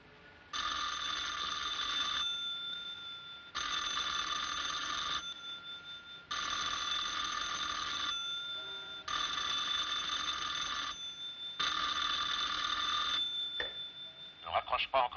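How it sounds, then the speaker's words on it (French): A telephone rings in five long, evenly spaced bursts of a bright electronic trill, close and clear, with short gaps between them and a clatter at the end. "Décroche pas encore une fois, Pete."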